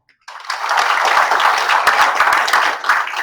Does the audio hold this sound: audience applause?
yes